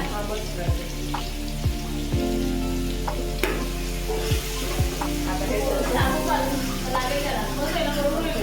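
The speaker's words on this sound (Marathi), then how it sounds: "हे वाटण आहे ना, हे आता आपण परतवून घ्यायचं पूर्ण व्यवस्थित." Green chili paste fries in a pan with ginger-garlic paste, giving a steady hiss and crackle with periodic stirring knocks throughout, continuous and fairly close.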